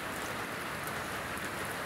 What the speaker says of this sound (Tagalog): Kita kauli ani kay kusog pang ulan.